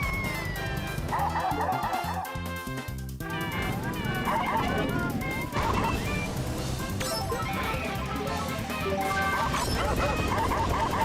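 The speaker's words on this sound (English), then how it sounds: "Why is he barking like that?" A dog barks and yips repeatedly, close and loud, over busy Mario Kart Wii racing music and game effects, with a voice talking at times.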